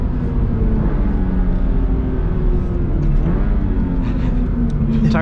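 Loud, steady road and tire roar fills the cabin of a 2022 Subaru BRZ lapping a race track, with a constant rumble that buries the engine note throughout.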